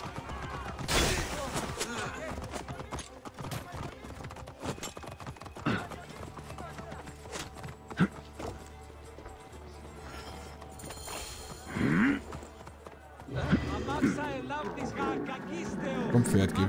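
Horse hooves clip-clop in Assassin's Creed Origins at the Pharos garrison, soft rhythmic hoofbeats mixed with game sounds, scattered impacts and a voice talking over them.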